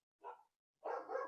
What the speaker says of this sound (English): My dogs are both barking.